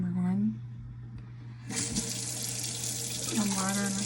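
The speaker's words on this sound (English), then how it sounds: "water in a cup" Running tap water fills a cup with a steady close hiss that starts abruptly partway through and continues, while a voice speaks briefly before and near the end.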